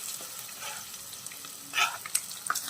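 Chopped boiled egg pieces fry in a pan of garlic and chili masala and are stirred gently, giving a steady close sizzle with soft scraping and light spatter accents.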